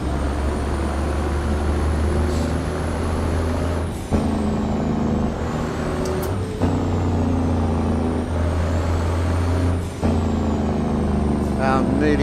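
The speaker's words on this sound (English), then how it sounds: "The blow-off valve sounds insane now." Idling truck engine with a steady low rumble throughout, a few sharp air-brake hisses and releases breaking in near the mic, a whining tone above.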